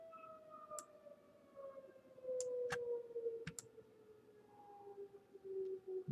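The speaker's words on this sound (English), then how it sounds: "Sorry about the sirens. It's a volunteer fire department." Volunteer fire department sirens wail at a distance, a long slowly falling tone that persists faintly throughout, with a few sharp clicks and taps nearby.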